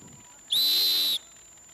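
A referee whistle at a quadball match gives one loud, steady blast lasting under a second, close and clear against a quiet background.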